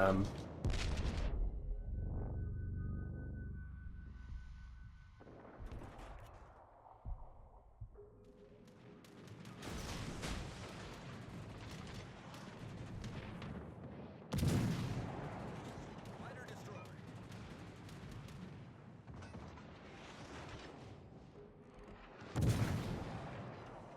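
Naval gun salvos from warships in World of Warships Legends, heavy booming shots at intervals with rumbling low-end decay, mixed with game ambience and some talk.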